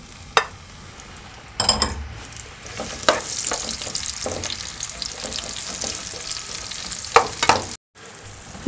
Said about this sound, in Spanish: acá estamos haciendo el salteadito de los trocitos de manzana